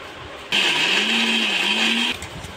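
A mixer grinder powders almonds in one loud, steady whirring burst of about a second and a half, starting and stopping abruptly.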